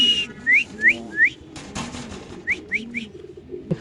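Lahori pigeons at a large pigeon farm in Khilgaon, Dhaka, give a series of clear rising whistled calls, three close together then three more after a pause, over soft low cooing and light background noise.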